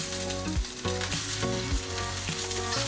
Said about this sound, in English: Toss this continuously for about 20 seconds till the leaves have wilted.